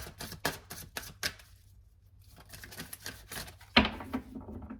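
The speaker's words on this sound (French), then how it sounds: "je prends quelques cartes de l'oracle des miroirs" Oracle cards being shuffled and handled on a table, a run of quick papery flicks and taps, close and fairly quiet, with a short pause in the middle and a sharper slap near the end.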